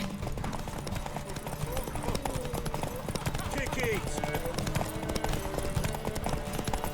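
Rhythmic hoofbeats of a galloping horse in The Witcher 3: Wild Hunt clatter steadily under game music and effects while a voice speaks briefly.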